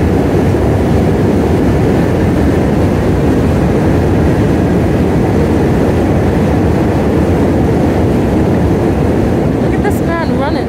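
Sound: train passing beside bike on Manhattan Bridge

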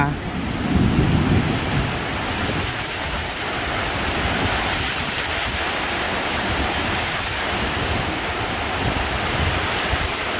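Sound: rain and thunder at noon over rice fields

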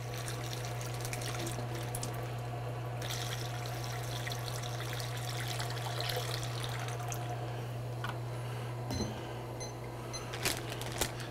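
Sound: shower water poured into a collection bag

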